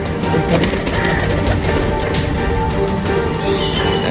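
A pigeon coos close by over dense, loud background noise.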